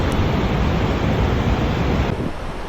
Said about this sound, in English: Imagine millions of droplets individually crashing.